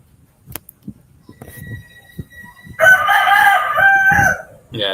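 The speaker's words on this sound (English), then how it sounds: "you hear the fucking roosters?" Roosters crowing nearby in the late morning: a long loud cock-a-doodle-doo call following soft scattered thumps and faint background noise, with a second crow starting at the end.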